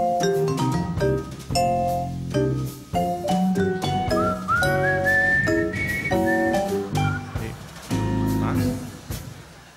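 An audience whistles along to a song with a bright, sustained whistled melody mixed into the music, with singing voices around it throughout.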